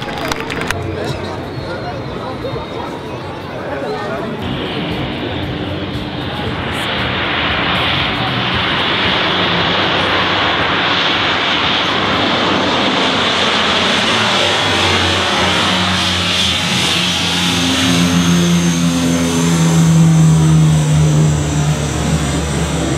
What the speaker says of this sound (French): Le Canadair se présente devant vous